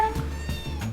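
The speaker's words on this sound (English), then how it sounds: "Playing with kittens." Kittens meow in short, high, close calls, about three in quick succession over roughly a second, loud and clear with no talk over them.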